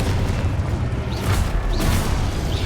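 A Confringo blasting spell explodes in the Hogwarts Legacy video game, a dense, loud rumbling burst with brief whooshing flares, sustained and without speech.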